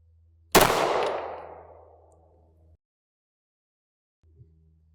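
A single sharp .30 Super Carry pistol shot fired into ballistic gel, a loud crack with a ringing decay over a low hum, then near silence before the hum faintly returns.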